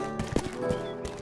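Hooves clop and a horse whinnies briefly in the medieval video game Rustler, a short, fairly quiet burst of a few hoof strikes with a tonal neigh.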